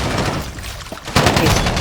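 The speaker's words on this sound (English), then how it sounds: "I wish they wouldn't use those tacticals, especially those ones where you think it's someone shooting behind you" A tactical decoy in a shooter game fakes gunfire behind the player: scattered rattling shots, then a louder burst of rapid fire that breaks in about midway and keeps going to the end.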